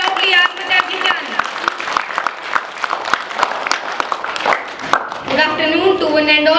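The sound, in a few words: students clapping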